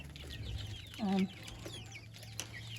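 Young chickens on a backyard farm give a short, soft clucking call near the middle. Faint chirps and quiet background noise surround it.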